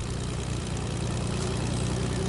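A propeller airplane drones steadily overhead in a Fortnite match, a continuous loud engine hum.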